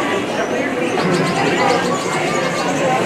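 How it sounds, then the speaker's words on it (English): Small birds chirp and coo continuously inside an aquarium in Austin, Texas, amid a busy, noisy background with some distant chatter. "There's various little Tweety birds in here."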